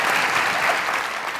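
A studio audience claps steadily for a singer, a dense, even wash of applause holding at full strength for the whole moment with no voices over it.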